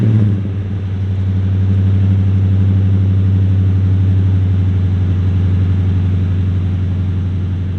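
A 2016-21 Toyota Tundra fitted with a slant-cut cat-back exhaust fires up from cold and settles into a loud, deep, steady rumbling idle, close to the microphone, with no talking.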